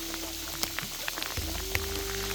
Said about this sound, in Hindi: और बहुत तगड़े ओले पड़ने स्टार्ट हो गए हैं।